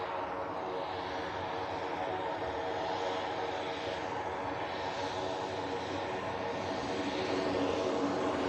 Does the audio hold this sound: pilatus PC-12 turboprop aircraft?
yes